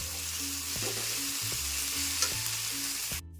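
Tomato and chopped green chili frying in a pan until soft, a steady close sizzle with periodic stirring scrapes and a low hum underneath, cutting off abruptly at the end.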